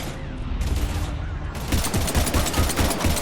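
Dense rapid gunfire in Mass Effect 3, a sustained fusillade of shots from a fight against Husks that grows louder and busier partway through, with a voice shouting over the battle.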